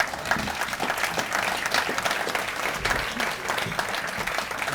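An awards-event crowd applauds World War II veterans continuously, a dense wash of clapping at moderate volume that holds steady throughout, with faint voices mixed in.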